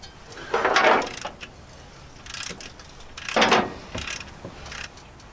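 A hand ratchet working on a coolant temperature sensor in a Chevrolet C10 Stepside engine bay, giving two short bursts of clicking, close and clear, separated by quieter pauses.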